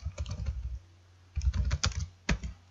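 Close typing on a computer keyboard while writing a document in Microsoft Word: two bursts of quick, clattering keystrokes separated by a pause, with a few isolated key taps at the end, no talking.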